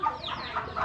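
A chicken clucks close by in a rural Thai-Lao home setting, a short burst of a few sharp, nasal clucks in quick succession with no talking over it.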